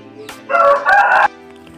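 A rooster crows loudly and close by from a chicken coop where hens are being fed, one drawn-out crow rising and falling over about a second, with no talking.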